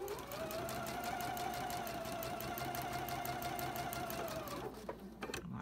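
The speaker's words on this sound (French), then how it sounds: "je peux recommencer à coudre comme ça" A sewing machine stitches a log cabin quilt block in a steady, fast mechanical whir for several seconds, then stops, followed by a few quiet clicks.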